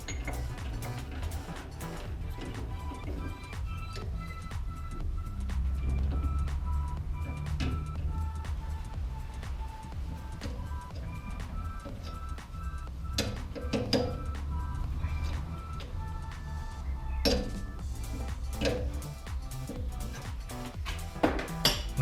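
A lathe faces and tapers the end of a paddock stand axle pin for a Triumph Speed Triple 1200 RR motorcycle, giving a steady droning machine hum with scattered metallic clinks and ticks throughout, without any talking.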